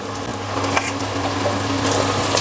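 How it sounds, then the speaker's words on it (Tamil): Garlic and green chilies fry in a pan with a steady, close hiss, joined by a low background hum and a few soft clatters, and no one speaking. "இப்போ வந்து பூண்டு போட்டுக்கிறேன். பூண்டு பச்சை மிளகா"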